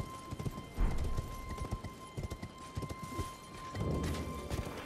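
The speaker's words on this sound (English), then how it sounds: "I'm on a horse." Horse hooves gallop in Elden Ring, a quick, steady clip-clop rhythm that carries through the whole stretch over a low ambient hum.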